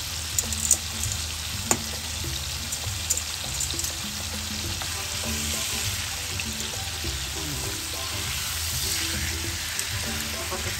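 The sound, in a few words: chicken frying in oil for chicken sisig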